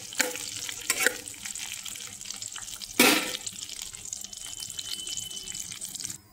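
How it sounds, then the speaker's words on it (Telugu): Cashews frying in ghee give a steady soft sizzle with faint crackles, broken by a few louder scraping stirs from a spoon in the pan, close and fairly quiet. "నెయ్యిలో వేయించుకోవాలి దోరగా. గోల్డెన్ బ్రౌన్ కలర్ వచ్చేటట్టు వేయించుకోవాలి"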